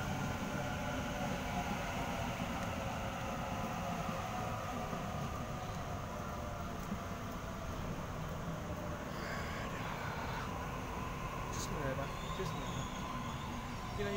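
A Sydney Trains A set rolls into platform 1 at Toongabbie station with a steady low rumble and hum of wheels on track, faint squeals and station noise, while someone talks over it.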